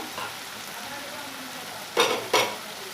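Katla fish masala sizzles softly in oil in a pan for yogurt-style fish curry, then two quick, louder scraping stirs cut through the frying near the end.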